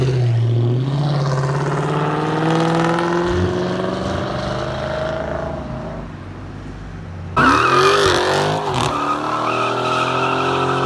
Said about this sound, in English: Let's see if he burns the tires.